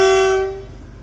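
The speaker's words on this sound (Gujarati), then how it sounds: "ટ્રેન આવી ગઈ. ડીઝલ વાળી આવે છે, માલગાડી છે." A diesel goods train sounds its horn nearby, one loud sustained rich-toned blast that cuts off and fades into low rumble.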